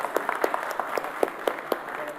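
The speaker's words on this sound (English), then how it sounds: "Let's have a big round of applause for Moto." Audience applause at a Moto Z phone launch event, a steady patter of many hands with a few sharper individual claps standing out, filling the room continuously.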